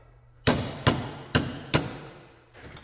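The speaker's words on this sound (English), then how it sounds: "stick it down on something you can hit with a hammer" Four sharp metallic hammer blows in quick succession, each ringing briefly, as a socket is struck against a hard surface to pop off an old part during valve work on a 2015 Honda 3.5 engine, with a faint fifth tap at the end.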